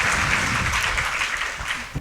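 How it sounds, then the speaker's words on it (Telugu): A congregation at a Telugu Christian worship service claps together in praise, producing a dense, steady roar of hand claps for about two seconds with no voices. "చప్పట్లు కొట్టి దేవుని స్తుతిద్దాం"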